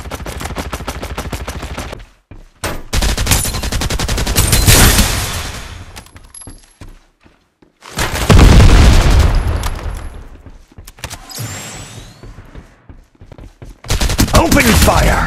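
Loud bursts of automatic gunfire in Farlight 84, a battle royale shooter, in long rattling volleys separated by short pauses, with talk mixed in among the shots.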